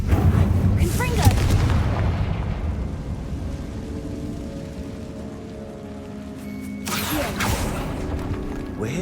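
A Confringo blast spell in Hogwarts Legacy, booming explosive bursts near the start and again later, each followed by a rumbling, crackling tail under a steady ambient bed.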